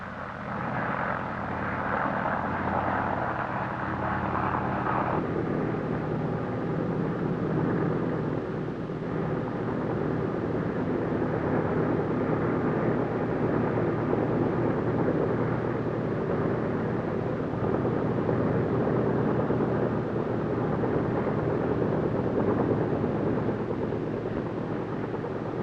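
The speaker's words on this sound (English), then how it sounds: "the sighting parties work from helicopters of the United States Air Force" A United States Air Force helicopter flies over northern Alberta lakes and forests, a continuous loud rotor and engine drone that holds steady throughout with no talking.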